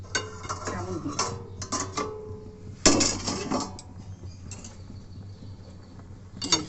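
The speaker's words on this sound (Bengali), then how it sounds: "এবার 5 মিনিট হয়ে গেছে, আমি ঢাকাটা খুলে দেখি কেমন হয়েছে।" A lid comes off a pot of cooking chicken pulao: light metallic clinks and scrapes, then a louder clank partway through, close by.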